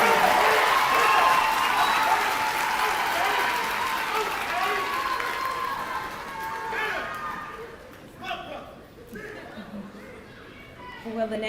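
A high school graduation audience applauds the students, dense sustained clapping that gradually thins and fades, with crowd chatter and shuffling emerging beneath as it dies down.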